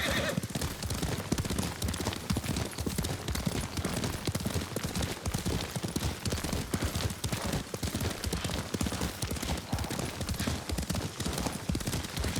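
A horse gallops in the video game Ghost of Tsushima, with rapid hoofbeats pounding steadily and loudly throughout, a whinny near the start, and dense wind and outdoor game ambience underneath.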